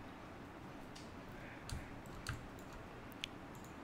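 Mouse clicks in Maya 2022 while setting up a Human IK control rig: a few sharp, faint clicks, including quick doubles, spaced out over steady low background hiss.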